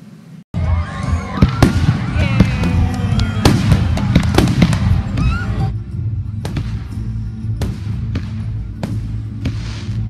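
Cartoon fireworks at an Independence Day festival, loud crackling bursts and bangs in quick succession after a brief quiet start, then thinning into scattered pops, with a cheering voice near the beginning.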